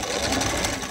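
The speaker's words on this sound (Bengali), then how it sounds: "পরিমাণ রাখিয়া কাপড় সেলাই মারি দিমু সাইড" A sewing machine stitches the side seam of a front-open jacket in one steady, fast, continuous mechanical whir that fills the whole short burst, close up and with no voices.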